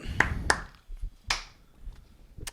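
A few sharp, close hand claps or snaps spaced irregularly, each a crisp brief crack against a quiet background.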